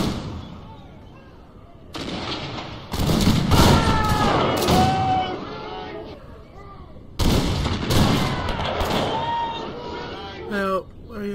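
Troops fire volleys of musketry in the Zulu mod of Napoleon Total War, with dense bursts of gunfire that crash in around two seconds and again near seven seconds amid battle noise.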